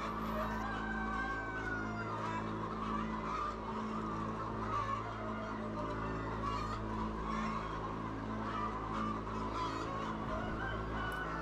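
Chickens on a free-range hillside farm cluck and call, a continuous flock murmur with occasional louder clucks over a steady low hum of background noise.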